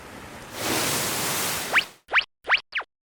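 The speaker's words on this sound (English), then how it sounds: "Strong waves are hitting the beach." A strong sea wave surges onto a beach in one broad, rushing swell of noise that fades out, followed by a few short, bright rising chirps.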